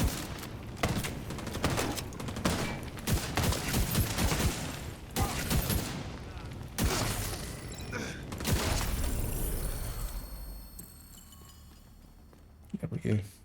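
Rapid bursts of gunfire from a video game, a dense volley of shots in the first half followed by a few scattered bangs, with someone talking over it.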